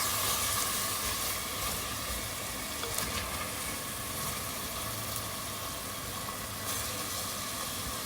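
Chicken pieces fry in a hot pan while being stirred, giving a steady, even sizzle with soft scraping throughout and no talking.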